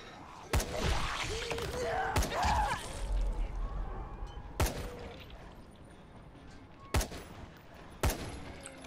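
Gunfire in the video game Dying Light: five separate, loud single shots, spaced a second or two apart, cut through quiet in-game ambience.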